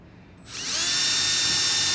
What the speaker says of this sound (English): You're going to drill the pilot hole, making sure that the drill is nice and plumb in both directions.